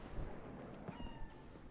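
A cat meows softly in the video game Cyberpunk 2077, one or two short faint mews over a steady low game ambience.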